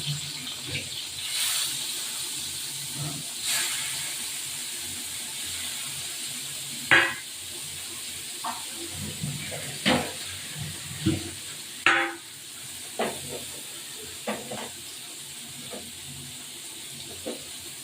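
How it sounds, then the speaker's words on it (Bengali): Large prawns fry in oil in a pan for making prawn chops, with a steady faint sizzle and hiss punctuated by occasional sharper clinks and spatters, close at hand. "এবার একটু তেল দিলাম এই চিংড়ি মাছগুলো চিংড়ি মাছের চপ করবো চিংড়ি মাছটাকে একটু ভেজে নেব"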